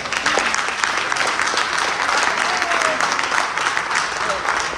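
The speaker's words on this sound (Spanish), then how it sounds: "Pido un aplauso para Rafael." A seated audience gives author Rafael Arraiz Lucca a steady round of applause at a book presentation. The dense, even clapping fills the room at a constant level throughout.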